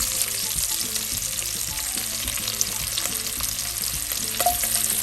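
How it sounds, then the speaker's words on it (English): Chopped vegetables and bell peppers fry in rendered kielbasa sausage fat with no added oil, a steady dense sizzle with occasional utensil scrapes and stirring taps throughout. "Fry the veggies up in there."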